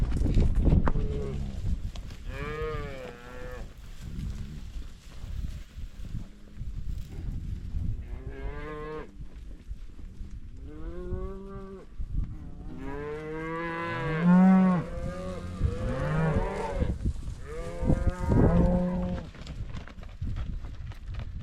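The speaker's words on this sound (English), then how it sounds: "corralling cows" Cattle moo repeatedly, long drawn-out lowing calls one after another, some near and loud, over a rumbling outdoor background.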